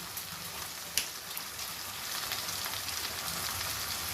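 Potato chilli with salt and soy sauce is stir-fried over high heat, making a steady, dense, close sizzling hiss with one brief clink near the start and no talking.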